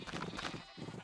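Sheep in the video game Minecraft, FTB Interactions modpack, give a short, faint burst of wavering bleats, several quick pulses in a row with no talk over them.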